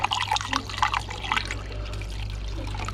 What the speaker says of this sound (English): So this is the last one to pour off.